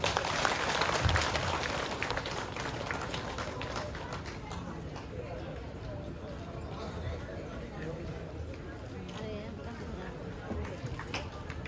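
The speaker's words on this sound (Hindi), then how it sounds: "ताली बजते रहना चाहिए, तालियों की कमी नहीं होना है।" Audience at a welfare society's silver jubilee celebration in Arunachal Pradesh clapping steadily, a dense, even patter of applause that starts a little stronger and continues at moderate level, somewhat distant, with faint murmuring beneath.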